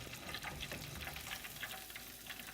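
Shrimp frying in hot oil, a steady close crackling sizzle with dense popping bursts that continues without pause and without talk.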